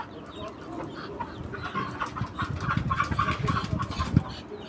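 Steady low clucking from a broody hen sitting on a clutch of eggs, rapid and insistent, growing slightly louder toward the end, close and alone with no voices.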